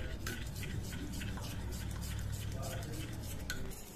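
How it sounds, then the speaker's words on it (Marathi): A spoon stirs two spoonfuls of cornflour into plain room-temperature milk for tender coconut ice cream, making quiet, rapid clinks and scrapes against a bowl that run steadily for a few seconds, faint and close. "हे 2 चमचे कॉर्नफ्लॉवर घेतलेले, हे मिक्स करून घ्यायचे दुधामध्ये"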